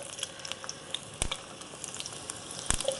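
Onions fry quietly in a pan with a faint, even sizzle, punctuated by a couple of sharp clicks or taps from a utensil.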